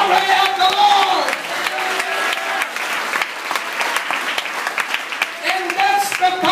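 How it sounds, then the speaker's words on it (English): A church congregation claps hands together in a dense, lively burst, with a voice carrying over the clapping at the start and end. "Clap your hands for the glory of the Lord."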